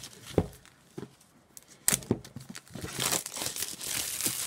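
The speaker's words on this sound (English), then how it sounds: "Bear with me while I try and rip this box open." Cardboard packaging of a Throw Throw Burrito card game box ripped open by hand, with sharp tearing bursts and crinkling in short, close bouts, rising to a steadier rustle of cardboard and wrapping toward the end, no talking.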